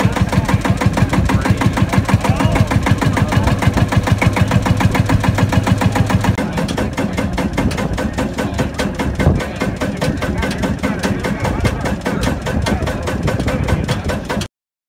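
A small tire-driven tractor engine runs steadily nearby at an auction with a fast, even chugging rhythm, loud and continuous with no talking.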